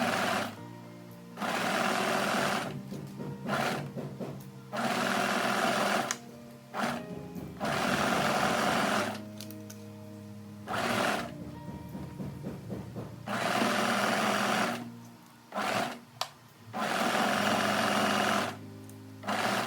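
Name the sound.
sewing machine stitching fabric layers with 1 cm seam allowance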